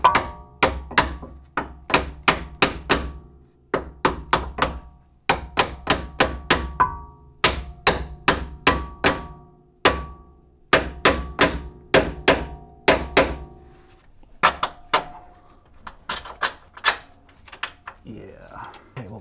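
Steel hammer striking a front suspension part on a BMW E90 during a suspension refresh, many sharp metallic blows in quick bursts of several hits separated by short pauses, close and loud.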